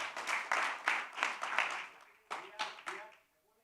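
An audience claps in approval of a resolution during a business session. The applause comes in several bursts of moderate loudness, then breaks into a few separate louder rounds near the end.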